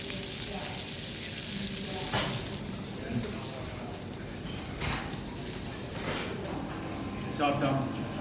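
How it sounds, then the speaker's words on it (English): Steak fries in hot butter in a pan, a moderate sizzle under a person's talking, with a few clinks and scrapes of utensils against the pan. "when you put the steak into the hot butter, it starts to cook"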